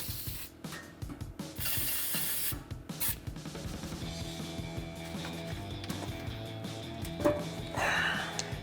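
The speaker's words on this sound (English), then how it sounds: "we're going to spray down our last two rubber isolators" Spray lubricant hisses in several short bursts onto the rubber exhaust isolators of a RAM 1500, mixed with mechanical clicks and rubbing of tools under the truck, fairly quiet and close.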